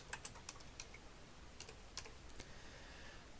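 Soft, scattered keyboard taps from someone typing on a computer keyboard, irregular and fairly faint, with a few quick clicks spaced out over a quiet background and no talk.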